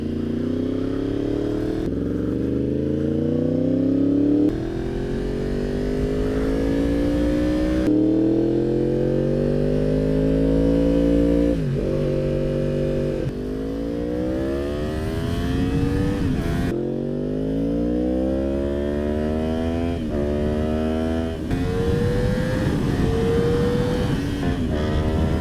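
A 2016 Yamaha R1 with Yoshimura and SC Project exhausts revs repeatedly, engine pitch climbing and dropping through several rising sweeps, loud and close with brief cuts between passes.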